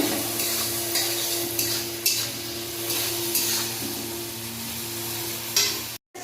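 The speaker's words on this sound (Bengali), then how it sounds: "চিংড়ি মাছগুলো ভালো করে ভেজে নেব" Shrimp seasoned with salt and turmeric frying in hot oil in a pan, a steady close sizzle with occasional stirring scrapes and light clinks throughout, no talk.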